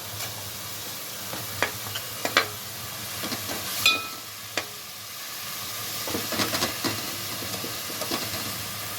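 Ginger, garlic and clove paste frying in a pan for Guntur gongura chicken curry, a steady sizzle with scattered clicks and scrapes of stirring, close and fairly loud.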